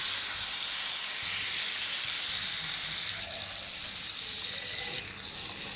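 Flipped fish fry in hot oil, giving a loud, steady, broad hiss that continues without pause, with no voices.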